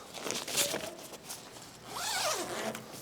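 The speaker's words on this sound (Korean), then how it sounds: "그 다음에 레인플라이 지퍼를 하나씩 내려줍니다" A rooftop tent's rainfly zipper is pulled open in a few rasping strokes, one short run then a longer, rising drag, close but fairly quiet, with no talk.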